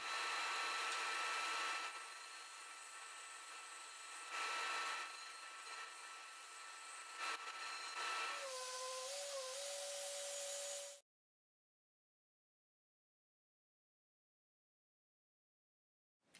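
Wood being sawn for a small wooden owl project, a rough continuous rasping cut that varies in strength for about eight seconds, then a brief higher whine before it stops abruptly into near silence.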